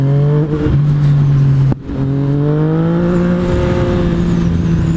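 A 2017 Yamaha FZ-09 (MT-09) motorcycle engine drones loudly and close up while riding, its pitch climbing steadily through the gears with a brief drop at a shift partway through.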